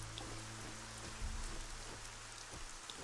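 Steady rain falls in the fantasy role-playing game Gothic 4: ArcaniA, a continuous soft hiss of drops on surfaces with a faint low rumble, quiet and unbroken by talk.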